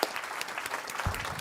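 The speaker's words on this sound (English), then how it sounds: "give one more round of applause for our panelists" An audience at an association's annual meeting applauds the panelists, a brief steady patter of clapping from a moderate-sized crowd.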